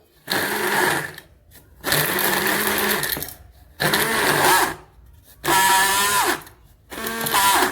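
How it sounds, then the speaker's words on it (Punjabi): An electric kitchen mixer grinder whirs in four loud bursts separated by short pauses, its motor pitch rising and settling with each run as it grinds ingredients into fine powder. "ਕਿਸੇ ਮਿਕਸੀ ਦੇ ਵਿੱਚ ਇਹਦਾ ਬਰੀਕ ਬਰੀਕ ਪਾਊਡਰ ਬਣਾ ਲਓ"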